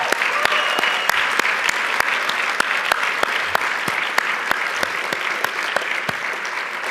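An audience at a university media arts awards banquet gives a sustained round of applause, dense clapping filling the room with a few sharp individual claps standing out, steady for several seconds.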